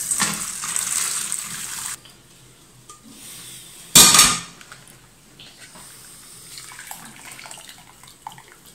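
Cooked veal for blanquette strained in a kitchen, liquid pouring off in a steady splashing stream that stops after two seconds, followed by a short loud gush and faint clatter of pot and utensils.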